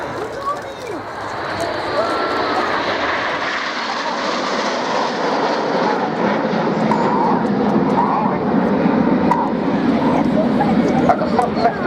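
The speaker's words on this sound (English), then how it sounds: "Coming in from the left with some red and white smoke, this is Typhoon." An RAF Eurofighter Typhoon jet trailing red and white smoke passes at an air show, a broad roaring rumble that swells and holds loud for the whole stretch, with a commentator talking over it.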